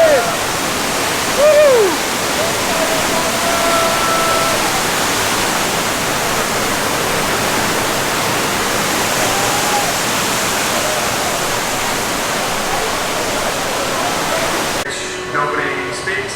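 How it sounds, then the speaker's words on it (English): Loud, continuous rushing roar of water swirling through a water vortex walkway at Universal Studios' Poseidon's Fury attraction, with a brief excited shout at the start and a sudden drop near the end. "My final walk through the water vortex."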